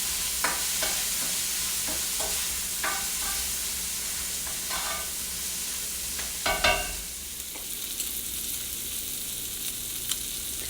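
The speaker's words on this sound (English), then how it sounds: "You can see it's sizzling really good." Shrimp for tacos fry in a hot pan with a steady sizzle, broken by scraping stirs and tosses, one louder clatter midway; no talking.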